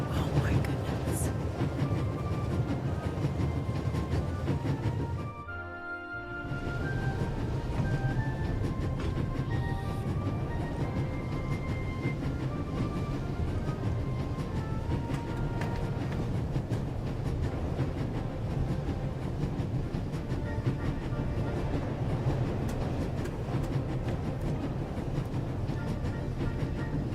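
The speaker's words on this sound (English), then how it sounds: "There's nothing quite like traveling on a train" Train rolling along rails in the video game The Raven: Legacy of a Master Thief; a continuous low rumble with rhythmic rattling and faint tonal squeals, briefly muffled once, with voices talking over the steady motion.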